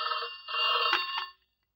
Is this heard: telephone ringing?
yes